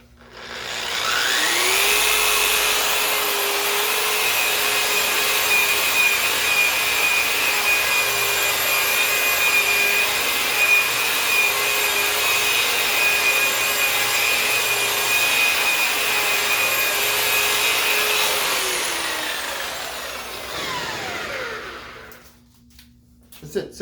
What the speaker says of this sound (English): This is a Makita, very high performance polisher.